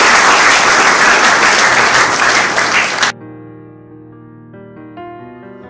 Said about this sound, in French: on a beaucoup d'applaudissements pour